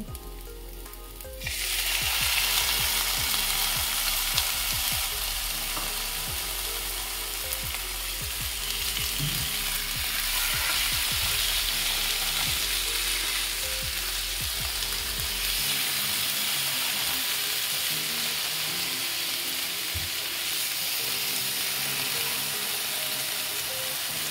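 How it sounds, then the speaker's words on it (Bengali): Boneless chicken pieces hit a pan of onions already fried for a minute, setting off a sudden loud, continuous sizzle that stays close and even, with occasional stirring scrapes and no talk. "এবারে আমি এখানে চিকেন নিয়েছি বোনলেস, এই চিকেনগুলো দিয়ে দেব।"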